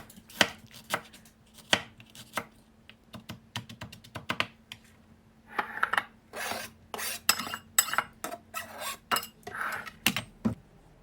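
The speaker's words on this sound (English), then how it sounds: "I cut up about 3 juicy tomatoes and I put them in a separate bowl." Knife chopping juicy tomatoes on a cutting board, a quick run of sharp close taps in uneven bursts with short pauses between them.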